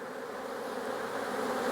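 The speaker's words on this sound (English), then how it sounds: "A lot of drones coming in." Honeybee drones flying into a hive, a steady low buzzing hum of many bees close by that swells slightly louder toward the end, with no talking.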